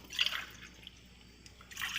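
Water from a glass is poured into a greased kadai, a couple of brief splashing pours close by with a quiet pause between them.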